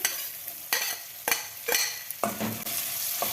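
Chopped onion and tomato sizzling in hot oil in a pan for peas upma, with a steady fry hiss broken by several sharp scraping stirs of a spoon, close and fairly loud, no talking.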